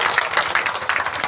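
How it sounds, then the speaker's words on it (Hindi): An audience at a Jan Suraaj campaign gathering in Gopalpur claps to welcome a candidate, a brief burst of quick, fairly loud, uneven applause lasting just over a second. "इसलिए एक बार जोरदार से इनकी स्वागत में ताली बजा दें"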